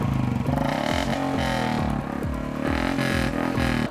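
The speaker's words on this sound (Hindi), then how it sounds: "बुलेट की आवाज़ है, शोर करती है" A Royal Enfield Bullet motorcycle engine thumps close by with a loud, rhythmic, low-pitched beat and a slight rise and fall in revs.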